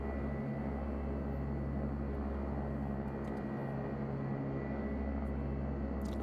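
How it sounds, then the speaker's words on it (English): A Beechcraft King Air in a flight simulator begins a no-flaps takeoff from Oklahoma City, a steady, even turboprop engine drone with a constant tonal hum and no break, no voices over it. "We're going to go no flaps takeoff."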